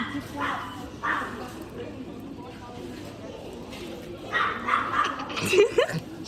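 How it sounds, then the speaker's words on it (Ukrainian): A dog barks and yips a few times, moderately close, while people talk over it. "собака кавкає"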